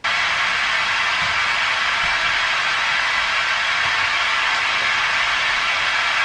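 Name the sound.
full range calibration noise signal played through planar tweeter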